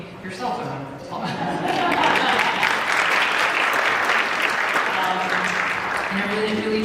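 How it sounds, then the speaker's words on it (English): An audience applauding at a City Hall community event, a dense sustained round of clapping that swells after a brief voice at the start and continues steadily, with some background tones. "So I want to give yourselves a round of applause."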